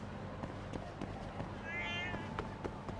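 A cat meows once, briefly and a little softly, in the video game Lost Judgment, rising above a steady murmur of in-game background sound with faint footsteps.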